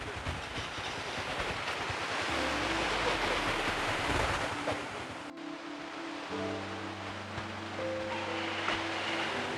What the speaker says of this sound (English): Now we're gonna start walking up the beautiful waterfall.